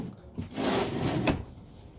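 A drawer in the kitchen of a 2011 Tiffin Allegro Bus 43QGP diesel pusher motorhome slides open with a soft rolling rumble, then shuts with a short wooden knock, close and fairly quiet.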